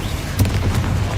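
Confringo explosion spell cast in Hogwarts Legacy: a single sharp blast with a booming, crackling burst near the middle, loud and close against steady game background rumble.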